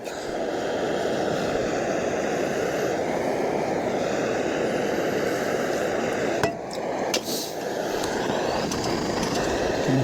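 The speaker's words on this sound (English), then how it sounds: "I can hear that gas is trying to go out" A camping gas stove burner runs flat out close by with a steady, loud broadband roar and low rumbling rush, struggling in the cold, with a couple of brief knocks near the end.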